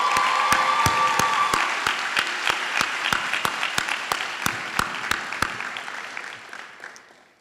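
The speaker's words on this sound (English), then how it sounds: "How about another round of applause for our student performers?" An audience applauds student performers at a university celebration event, a dense wash of clapping with a few sharp accented claps, loud at first and slowly fading away.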